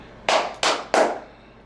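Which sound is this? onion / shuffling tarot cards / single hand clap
single hand clap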